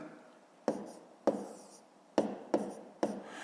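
Pen on paper writing numbers in a column multiplication, heard as five short, sharp taps and scratches spaced unevenly, close and fairly quiet against a soft background.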